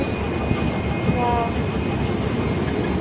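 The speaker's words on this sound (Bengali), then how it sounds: "তো আমাদের ট্রেন চলে এসছে।" A train pulling into a busy railway station platform, a loud, steady rumble of wheels and cars with a faint high metallic squeal drifting through. No one speaks.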